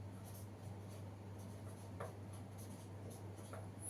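Faint marker strokes squeak and scratch across a board during note-taking in a biology class, a few short rubbing bursts over a low steady hum.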